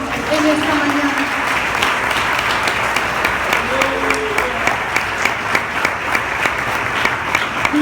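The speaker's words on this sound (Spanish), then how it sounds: "¿Por qué no le das un aplauso al Señor en esta mañana?" Church congregation applauding during a Spanish-language service in Venezuela, dense steady clapping filling the room throughout, with voices carrying over it.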